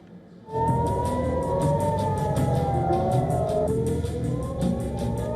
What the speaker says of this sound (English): Sirens erupt across cities.